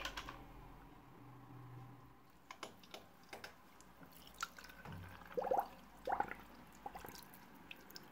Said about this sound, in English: So there's a little bit of water coming out,